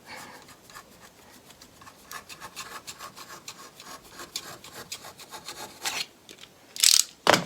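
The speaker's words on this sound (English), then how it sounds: "I'm going to brace it between those 2 points, and then I'm going to saw" EVA foam being cut with a blade in a sawing motion: quick, close, rhythmic rasping strokes that speed up, then a few louder sharp scrapes near the end.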